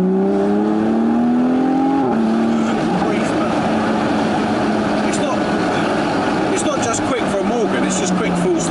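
A 340hp turbocharged Morgan Plus Six with a Morgan exhaust accelerates hard, its engine note rising through a gear change into a loud, steady roar, with people talking over it.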